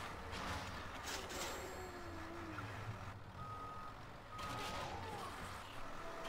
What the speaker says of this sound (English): nice beeping sound for me backing up